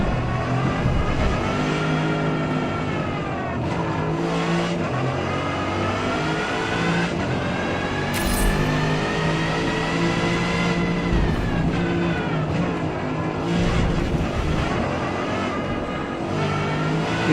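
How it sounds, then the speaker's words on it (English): A rear-wheel drive race car in the Forza Motorsport racing game revs loudly and continuously, its engine pitch climbing through gears and dropping on shifts for the whole stretch, with no talk over it. "These rear-wheel drive cars get me"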